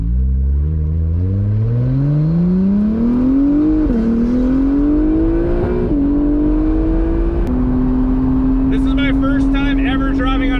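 An Acura NSX on a racetrack climbs through the gears, its engine note rising steadily, dipping at each shift and holding loud and close, with faint high chirps near the end.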